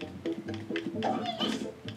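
A cat meows repeatedly in the Battleblock Theater video game, several short, bright cries in quick succession.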